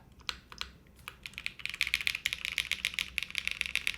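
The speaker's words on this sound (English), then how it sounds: "The spacebar, now that we've removed the gasket on it," Quick, clicky keystrokes from a QK80 mechanical keyboard, with the spacebar's gasket removed, rattle off close by in a fast run that starts sparse and grows dense and steady, with no voices.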